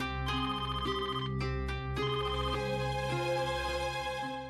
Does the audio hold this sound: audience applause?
no